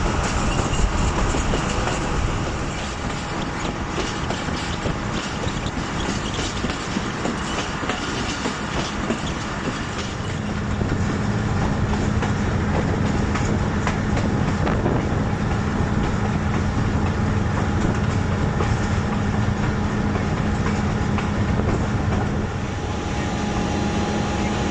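The Fareed Express passenger train, hauled by locomotive GU20 4561, runs along the tracks in light fog and rain. A continuous loud rumble with rhythmic wheel clatter is heard from on board, with a steady tone entering midway.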